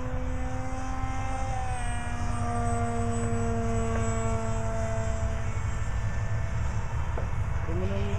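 A remote-controlled F-18 model airplane flies with a continuous high engine whine and drifting pitch, steady and fairly loud throughout.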